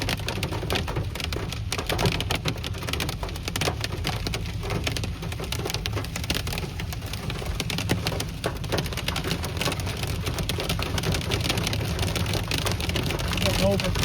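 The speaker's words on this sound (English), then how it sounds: "Yes, we are getting hail in Rapid City, South Dakota." Hail and rain pelt down during a storm in Rapid City, South Dakota, a dense, continuous hiss of impacts with crackly spikes, steady and close throughout.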